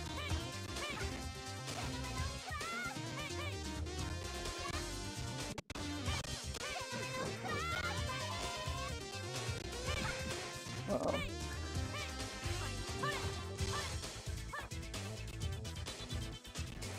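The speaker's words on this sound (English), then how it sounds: "My dog." A dog barking and yipping repeatedly in short bursts, mixed into busy game music and sound effects, with some talking around it.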